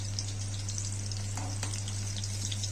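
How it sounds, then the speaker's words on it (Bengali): Cauliflower and potato pakoras deep-frying in hot oil give a steady, close sizzle with light crackling bubbles that runs the whole time without talk. "লাল লাল করে ভেজে নেবো"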